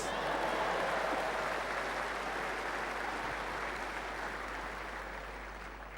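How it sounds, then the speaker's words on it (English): A large crowd at a leadership conference in Fiji claps together in a sustained, even burst of applause that slowly fades over several seconds, with no talk over it. "Clap, everybody, clap fast."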